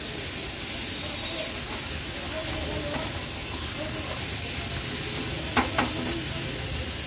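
Washed chicken pieces are stirred in a pan with a steady sizzle and hiss, a few scraping clinks near the end, close and continuous.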